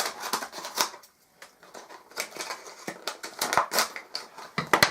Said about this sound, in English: Now, how do we open this? Scissors would make sense.